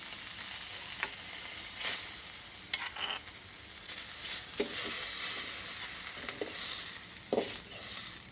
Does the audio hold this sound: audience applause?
no